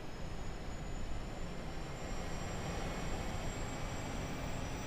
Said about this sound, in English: APU is spooling.